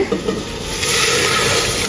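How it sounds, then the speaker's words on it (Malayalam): Two litres of milk poured into a pot for paalada payasam, a steady close rush of liquid that builds and holds loud and continuous. "2 ലിറ്റർ പാൽ ഒഴിക്കുന്നുണ്ട്."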